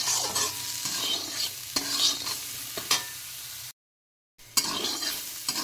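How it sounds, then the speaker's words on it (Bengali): Vegetables being stir-fried in a pan for fried rice, with a soft steady sizzle and repeated scraping strokes of a spatula close up, cut by a brief gap of silence partway through. "এবার আরও কিছুক্ষণ নেড়ে চেড়ে ভেজে নেব।"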